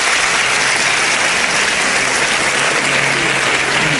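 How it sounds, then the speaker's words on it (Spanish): A large audience in a studio hall applauds continuously, a dense, steady wash of clapping that stays loud and even throughout with no voices on top. "El aplauso de todos"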